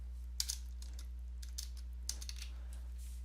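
Light clicks of typing on a computer keyboard on a Windows 10 PC, a few scattered bursts of keystrokes over a steady low hum, close and fairly quiet.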